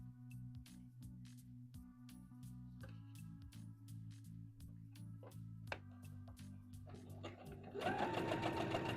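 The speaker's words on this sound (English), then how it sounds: "I have to sew all the way to the end here" A domestic sewing machine stitches a seam on a misses' dress, running in short quick bursts with brief pauses between, close and fairly quiet, then a louder busier whir at the very end.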